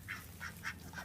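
Ducklings in a small coop give four evenly spaced, faint quacks over steady low hum, with no talking.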